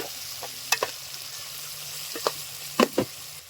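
A spoon stirs sambar with turmeric in a pan, for a wedding-style sambar, giving a steady sizzling hiss broken by several sharp scraping clacks and taps against the pan, close and fairly loud, with no talking.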